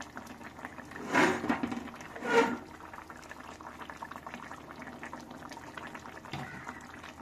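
Fish curry simmers in a pot, giving a soft, steady bubbling with two louder gurgling surges early on, then continuing quietly and close.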